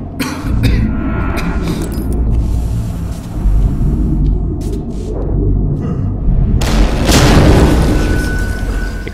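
A video game explosion in a sewer level of the stealth shooter Velvet Assassin booms loudly with a deep rumble, swelling again into a heavy blast late in the stretch, with no voices.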